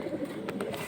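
Giribaz high-flying pigeons at a bird market coo softly in a short, close burst of a couple of low throaty notes against a murmuring background.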